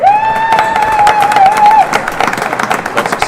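Spectators at a real tennis club match cheer and clap for a player, a sharp whistle riding over the applause first, then scattered claps fading out near the microphone.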